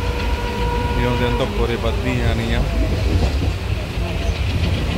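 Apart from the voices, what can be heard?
trains at Bathinda railway junction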